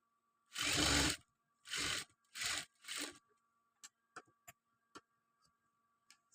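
A sewing machine stitching a chudidar runs in four short motor bursts, then falls quiet apart from scattered light clicks and ticks of the fabric and mechanism being handled.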